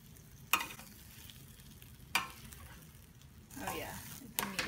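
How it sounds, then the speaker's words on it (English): A spoon stirs a sizzling beef and potato bake fresh from the oven. A few sharp scraping knocks sound over a steady, close frying hiss, with a busier rush of stirring near the end. "Give it a final stir."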